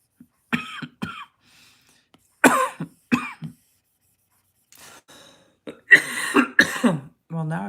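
Short bursts of coughing and throat clearing come close and clear, separated by quiet gaps, ending in a couple of rougher clears with a slight voiced edge.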